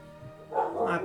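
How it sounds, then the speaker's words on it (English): A dog gives a quick pair of barks at moderate distance, brief and fairly clear against a low steady hum, with no talking. "Dog's barking."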